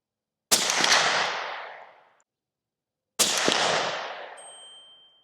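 Two suppressed .308 rifle shots through a TiTrex 360Ti suppressor, each a sharp loud crack with a decaying outdoor tail, about two and a half seconds apart, with no voices.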